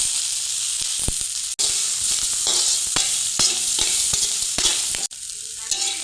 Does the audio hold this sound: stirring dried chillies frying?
yes